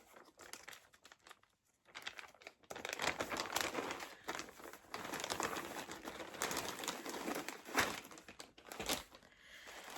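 Packaging rustles and crinkles close by as a purchase is handled, bursts of crackling that pause briefly, then continue steadily.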